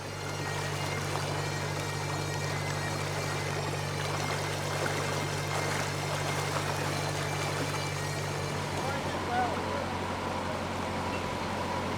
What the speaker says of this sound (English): another hire boat coming past, squeezing carefully through a narrow bit of the canal